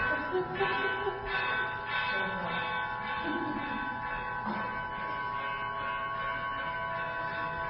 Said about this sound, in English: I always forget to tell them not to ring that bell.